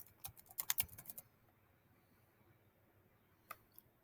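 Quick run of keystrokes on a computer keyboard, brisk clicking for about a second, then silence, then two isolated taps near the end, fairly quiet with no talking.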